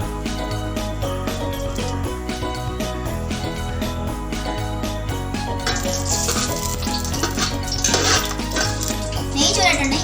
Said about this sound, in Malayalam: ചട്ടി ചൂടായി ഇനി അല്പം നെയ്യ് ഒഴിച്ചു കൊടുക്കാം.